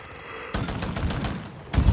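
Gunfire from the mobile game Call of Duty Mobile, loud and close, a burst of rapid automatic shots followed by another sharp volley near the end.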